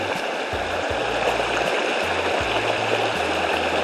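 A river stream rushes and burbles near a waterfall, a loud, steady wash of flowing water with low churning underneath, close and uninterrupted.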